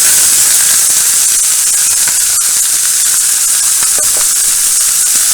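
Diced onion sizzling in a pan for beef tips, a loud, constant hiss of frying with no pauses, close and dominant.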